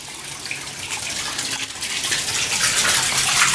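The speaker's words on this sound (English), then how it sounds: "Well, there's a load of water coming out of here." Water gushing from a leaking pipe outdoors, a loud continuous splashing rush that grows fuller and stronger over a few seconds, with no voices.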